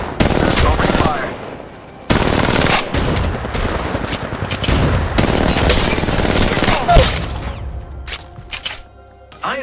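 Rapid automatic gunfire from Apex Legends Mobile comes in dense, loud bursts with short pauses between them, joined by impacts and booming hits. Clipped game voice lines sound faintly underneath.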